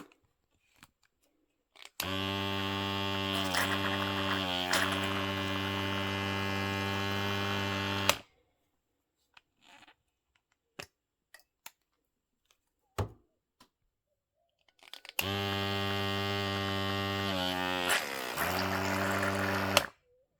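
The motor of a Snotty One SB-925N electric nasal aspirator, drawing in water, runs in two separate bursts of several seconds each. It makes a steady, close, buzzing hum with wavering pitch, separated by quiet handling clicks.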